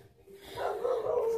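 Dogs barking and whining somewhere in the house, a short rising burst of yips and barks that gets louder over about a second.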